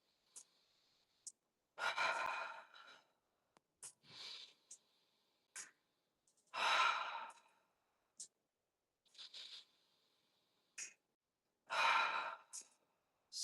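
Slow, deep breaths during a pilates stretch on a mat, with several long airy inhales and exhales spaced by quiet pauses and small soft breathy sounds close to the mic.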